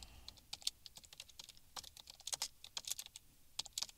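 Rapid typing on a computer keyboard while entering a short jQuery script, irregular close clicks in quick bursts with brief pauses.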